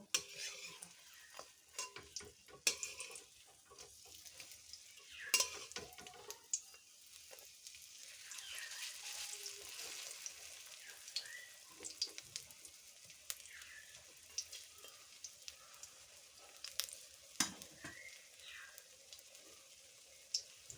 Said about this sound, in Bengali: অপর পাশটাও লাল লাল করে ভেজে নিতে হবে